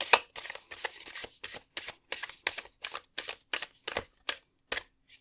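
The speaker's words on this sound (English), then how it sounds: "I was just like shuffling that one last card multiple times." Cards being shuffled in a series of quick riffling bursts, about a dozen short rustling flutters with brief pauses between them, close up.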